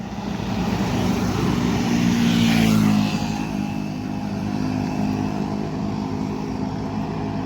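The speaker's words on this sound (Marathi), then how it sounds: "मोठी गाडी आली ना, मोठी गाडी, ही मस्त आवाज येतो." A large vehicle passes on the Mumbai-Goa highway in the Konkan at night, its deep engine and tyre roar building to a loud peak, then fading as it moves away.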